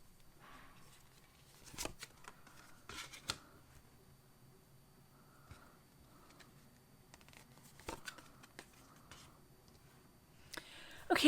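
Oracle cards are handled and drawn from a deck, giving faint, sparse clicks and soft card slaps at irregular intervals in a quiet room, with a louder rustle at the end.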